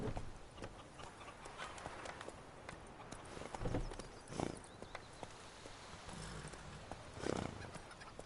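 Roach, the horse in The Witcher 3: Wild Hunt, runs with a steady clatter of hooves and gives several loud neighs and snorts over the galloping rhythm, with no talk.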